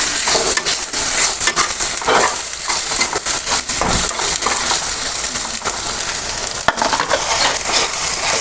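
Tomatoes with salt fry and get stirred in a pan for chapati and potato sabzi, a dense, continuous crackling sizzle with scraping stirs close by throughout.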